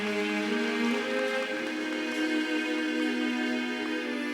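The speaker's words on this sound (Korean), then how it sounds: "여러분 박수로 환영해 주시면 감사하겠습니다" A crowd claps steadily in a dense, rain-like wash as guests walk onto the stage at a Korean village festival awards event, with music underneath and no speech.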